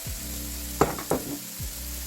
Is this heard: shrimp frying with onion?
yes